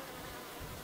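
Honeybees hum in a dense, steady drone right beside an open horizontal beehive, close and continuous with no voices.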